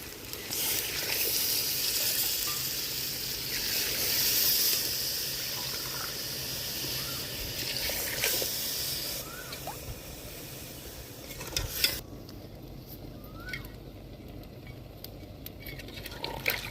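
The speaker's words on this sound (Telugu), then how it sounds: "అడుగంటకుండా ఇటు దిప్పేసుకొని వాటర్ పోసుకోవాలి" Water poured into a pan of spiced country chicken, village style, hisses and sizzles loudly and steadily at close range, then eases to a quieter simmer with faint clinks near the end.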